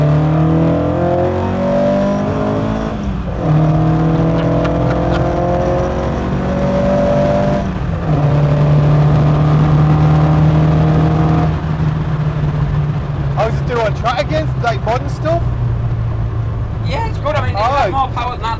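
A 1957 Ford Anglia engine revs repeatedly up and down nearby, loud and rising in pitch with each blip, with people talking over and between the revs.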